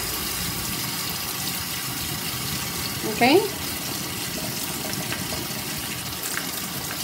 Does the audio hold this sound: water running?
yes